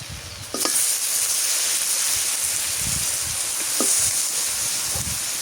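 Raw beef hits a hot pan with green chillies in a Bangladeshi home kitchen, bursting into a loud, steady sizzle and hiss, with a couple of sharp clinks of a spoon against the pan.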